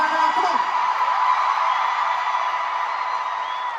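Concert crowd cheering and whooping in a New York City venue on a touring pop-rock show, a dense sustained roar of many voices with scattered high whoops, steady and loud across the whole stretch.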